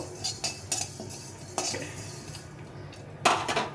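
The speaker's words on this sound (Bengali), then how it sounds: "তো এইভাবে 5 ফোড়নটাকে ভালো করে একটু ভেজে নেব" Five-spice panch phoron being dry-fried and stirred in a wok, with a few sharp metal scrapes and clinks of the spoon against the pan over a quiet sizzle, no talking.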